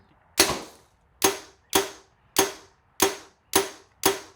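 Arrows shot from a bow into a target at 8 yards: seven sharp, loud impacts at a steady interval of roughly every half to one second, each fading quickly, with no talking.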